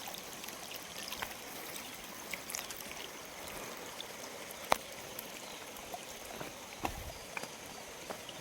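Water from a waterfall stream trickles and flows steadily at a low level through the whole stretch, with a few faint clicks and knocks on top and no talking.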